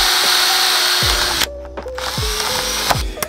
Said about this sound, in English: I'm about to drill a couple of pilot holes for the first couple of bolts for the door card